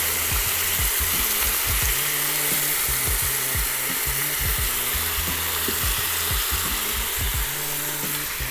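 A spice grinder grinds seasoning for short rib, producing a loud, steady, rasping mechanical grind with rapid repetitive crunching that runs unbroken throughout, close to the microphone.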